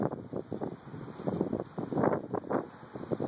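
Strong wind ahead of a thunderstorm buffets the microphone in loud, rumbling gusts that rise and fall without letup.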